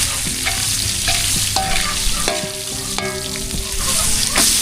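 Margarine sizzles and crackles in a hot frying pan, the steady frying hiss broken by scraping stirs and clinks of a utensil against the pan, close and loud throughout.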